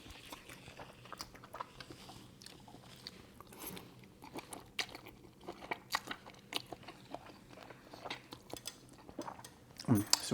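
Soft, close crunching and chewing of linguine with shrimp in a burst grape tomato sauce, quiet bites and scrapes that come unevenly over a low background, with a louder clatter near the end.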